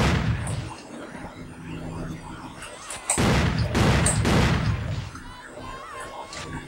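Gunfire in Hitman: Contracts on PS2, set in a thermal bath house, bursts out in dense, loud volleys of shots and impacts that swell midway, with game ambience running underneath throughout.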